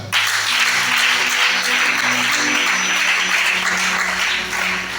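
Congregation applauding during a Sunday church service in Libreville, Gabon, loud sustained clapping that starts abruptly, with a low musical hum underneath throughout.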